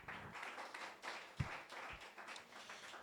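A church congregation claps for the Lord after a sermon on Ephesians, a quiet scattered patter of many hands heard from a distance, soft and uneven with a few sharper claps.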